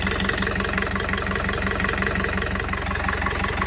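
A Yanmar 4JH5E non-turbo diesel boat engine idles steadily and close by, a dense continuous rumble with an even mechanical throb and no voices over it.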